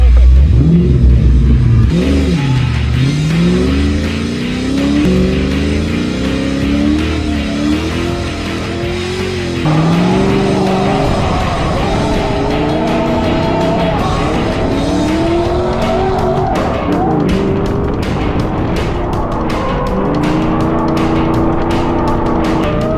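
A drift car with a freshly rebuilt engine, one with a blown head gasket, revs hard and bounces off the limiter while its tires squeal through slides. The sound is loud and close with repeated throttle blips and skids.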